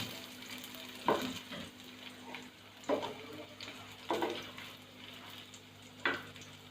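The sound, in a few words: stirring fried raisins into custard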